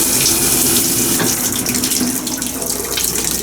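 A hotel bathroom shower head in a resort room sprays a wide, pressured stream of water, a loud, steady hiss that runs without a break and with no talk.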